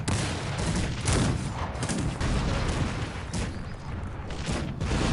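Musketeers in the Cossacks 3 strategy game fire in a dense, crackling fusillade, with repeated overlapping gunshots and booms that roll on loudly for several seconds.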